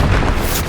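A fire spell blast in the Hogwarts Legacy video game erupts as a loud, dense burst of roaring flame lasting under a second, with no talk over it.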